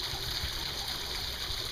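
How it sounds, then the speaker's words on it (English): Water running steadily through a small channel built with stones over a gold prospecting mat, a continuous close trickling and gushing with no talk. "we've created a channel for the water to flow"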